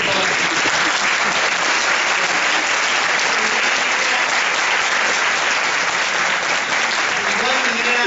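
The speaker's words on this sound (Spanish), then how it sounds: "tenemos que agradecerle con un aplauso a la doctora." An audience at a university lecture applauds, a dense, steady wash of many hands clapping at even loudness from start to finish.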